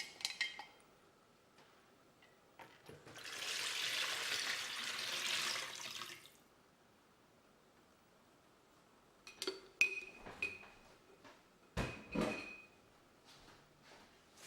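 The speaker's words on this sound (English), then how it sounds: "first we start to add the liquid to the bowl." Liquid is poured into a large mixing bowl while making seitan, a steady splashing pour lasting a few seconds, followed by light clinks and knocks of kitchenware. No one speaks.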